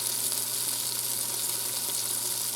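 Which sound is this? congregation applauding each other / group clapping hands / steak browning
steak browning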